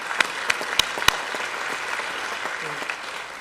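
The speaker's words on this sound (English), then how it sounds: "You can give him applause, please." Applause from the audience at an awards reception, moderate and fairly brief, a few crisp nearby claps standing out over a soft crowd wash.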